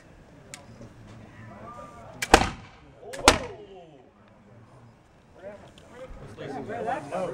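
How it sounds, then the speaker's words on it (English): A muzzleloader fires paintballs outdoors, giving two sharp, loud reports about a second apart, with voices talking before and after the shots. "when you shoot paintballs in a muzzleloader"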